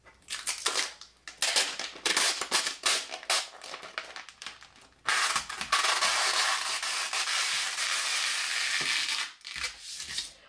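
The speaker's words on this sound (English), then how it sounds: "I'm going to do this part quickly because it's fairly loud, but I'm going to roll it out so it's as big as the decal" Transfer tape for a Cricut coir door mat decal, pulled off its roll in loud crackling, ripping bursts, first in choppy pulls and then in one long continuous peel before stopping.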